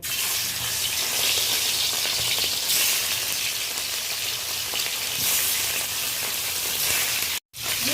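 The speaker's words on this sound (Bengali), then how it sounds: "এবার আমি মাছগুলোকে ভেজে নেব।" Katla fish frying in hot mustard oil in a kadai, a loud, steady crackling sizzle that holds for several seconds before a sudden momentary cutout near the end, with no talking.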